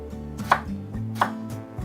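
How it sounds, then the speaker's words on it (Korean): A knife thinly slicing eggplant on a cutting board for a chicken steak garnish, with two sharp, distinct chops standing out over a steady low hum, close and clear with no talking. "가지는 조금 얄팍하게 썰어주세요."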